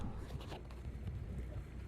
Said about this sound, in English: It's a tad bit windy, but got the boat at the fuel dock right now.